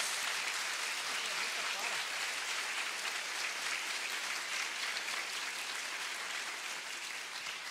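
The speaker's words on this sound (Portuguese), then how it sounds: "Pode aplaudir para valer." An audience at a Catholic religious gathering claps continuously, a dense, even roar of many hands that holds steady and fades only slightly toward the end.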